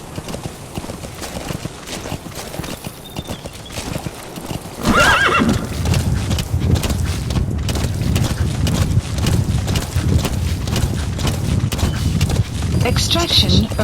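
D-Horse in Metal Gear Solid V: The Phantom Pain, heard as steady hoofbeats with neighing over game ambience and background sounds, loud and continuous.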